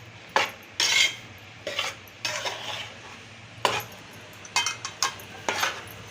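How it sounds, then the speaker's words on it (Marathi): Ragi flour roasting in ghee in a pan is stirred with a spoon in repeated scraping, clinking strokes, close and irregular, separated by quiet gaps and a faint steady hum. "एकसारखं हलवायचं, नाहीतर मग लागते खाली करपते."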